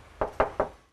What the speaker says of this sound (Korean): 제가 직접 올라가서 문을 두들겨 보겠습니다